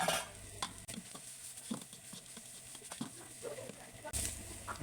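Fried garlic and sliced spring onion are stirred into squid in a hot pan, producing close scraping stir strokes over a soft sizzle, with a sharp clatter near the end.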